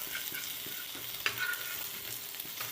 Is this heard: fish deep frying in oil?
yes